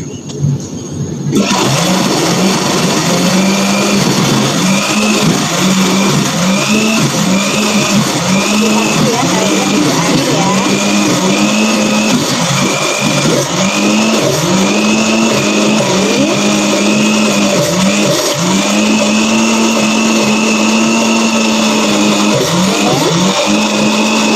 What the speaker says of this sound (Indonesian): Kita blender dulu bumbunya.